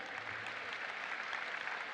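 A large audience at a college commencement ceremony claps steadily in a dense, even wash of applause, heard from a distance with no voices over it.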